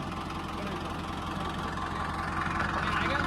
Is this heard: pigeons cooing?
no